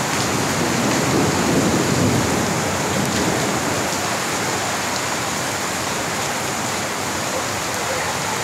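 Heavy rain pours steadily during a thunderstorm, a dense loud hiss throughout with a low rumble of thunder swelling early on.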